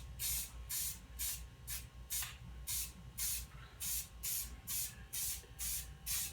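Short rhythmic bursts of spray paint land on an aquarium LED light fixture, about a dozen even hissing pulses close by over a low background hum, with no talking.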